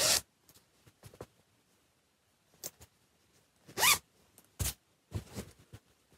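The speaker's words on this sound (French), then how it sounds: "La fermeture éclair." A zipper on a sewn rectangular fabric pouch is opened and closed in several quick, quiet zips separated by pauses, heard close up.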